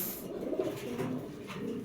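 Pigeons coo in low, rolling phrases nearby, a Spanish pouter-type bird among racing and fancy breeds kept at a farm, with soft chirps over steady background noise.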